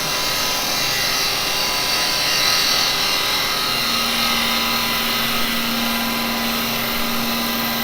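A woodturning lathe spins as a gouge cuts shavings from a wooden wig stand, giving a steady whirring hum laced with a continuous hissing scrape, close and even throughout.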